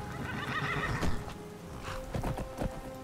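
A horse in the video game Skyrim whinnies loudly and close, with clip-clop hoof steps and shuffling around it, in a short burst with no talking.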